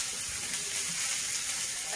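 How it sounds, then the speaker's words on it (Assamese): Onion and garlic sizzling in hot oil, a steady close crackling hiss that stays even throughout without pauses. "তেলতে নহৰু পিঁয়াজ দি থেতালি লৈছোঁ"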